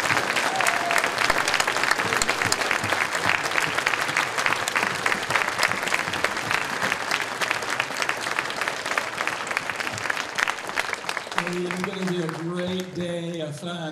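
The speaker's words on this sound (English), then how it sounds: "can we have another round of applause for our guests this morning?" Sustained, dense applause fills an elementary school assembly during a Veterans Day program, loud and steady throughout before tapering near the end as a voice begins speaking over it.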